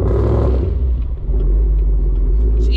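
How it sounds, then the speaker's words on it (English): A heavily squatted lifted GMC pickup truck's engine roars with a deep, loud rumble, holding steady under sustained full-throttle acceleration from close by. "My foot's to the floor and this truck don't stop."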